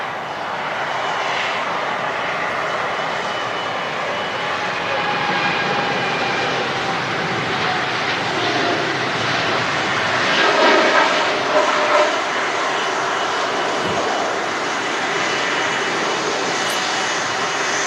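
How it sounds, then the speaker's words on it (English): A TUI Boeing Dreamliner jet departs from Manchester Airport, its engine roar broad and sustained, swelling slightly toward the middle before steadying, with faint distant talk at times. "TUI Dreamliner next to depart"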